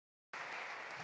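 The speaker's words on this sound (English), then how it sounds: "Can we give a nice applause to all three of our panelists?" An audience at a cybersecurity conference opening applauds three panelists, steady dense clapping that starts abruptly after a moment of silence and carries on loud and even.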